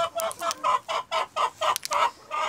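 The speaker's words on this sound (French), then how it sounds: "Du coup, il y a les pékins qui sont là." Pekin bantam chickens clucking close by, a rapid series of about ten short, sharp clucks in a steady rhythm with nothing else over them.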